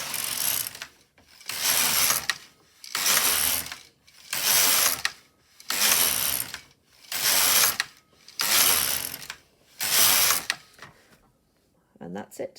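An LK150 knitting machine carriage is pushed back and forth across the needle bed in eight regular passes, each a loud, close ratcheting clatter separated by short pauses, ending with a quieter click.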